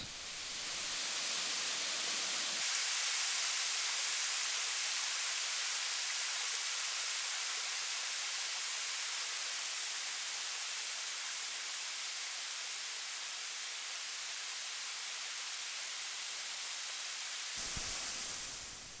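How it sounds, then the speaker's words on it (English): Steady, dense broadband roar of a 10 to 15 metre waterfall, the Cetatea Bohodeiului cascade in a valley of the Vlădeasa Mountains, Romania, rushing continuously and loudly close by with no voices. "This amazing waterfall is between 10 to 15 meters tall."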